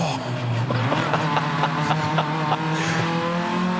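Hyundai Excel race cars on the Townsville circuit, engines droning loud and steady with pitch shifting as they brake and accelerate, faint commentary voices underneath.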